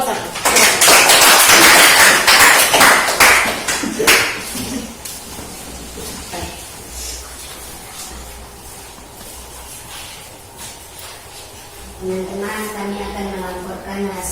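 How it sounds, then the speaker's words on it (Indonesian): Students in a classroom clap for a fellow student group during a fractions lesson, a dense burst of clapping in the first four seconds that then fades to quieter room noise, with a voice speaking near the end. "Kelompok 2 kita tepuk tangan untuk kelompok 1."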